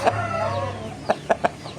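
An Indonesian fighting rooster calls close by, a drawn-out cry followed by three short, sharp clucks in quick succession.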